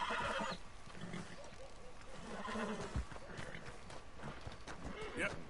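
Horse neighing in a video game, several whinnies over clip-clopping hooves and busy ambience, fairly faint in the mix.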